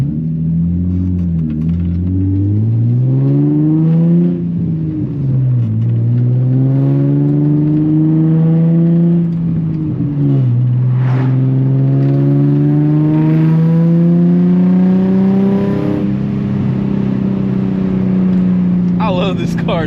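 A loud Nissan 350Z engine revs repeatedly, its pitch sweeping up and dropping back in several rising pulls and falls over a steady deep rumble, close and continuous throughout.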